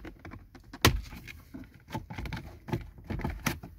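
Plastic interior trim molding pried out beside the glovebox of a Ford Mondeo 5: a sharp snap followed by a few short scraping clicks and rustles, close and fairly quiet, with no talk.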